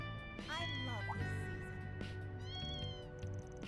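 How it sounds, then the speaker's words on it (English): Several cats meow in Trails Through Daybreak II, rising and falling calls overlapping one another, fairly clear over a steady musical background with a voice talking underneath. "The cats are colluding."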